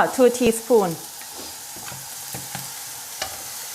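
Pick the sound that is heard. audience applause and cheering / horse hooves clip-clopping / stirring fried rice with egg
stirring fried rice with egg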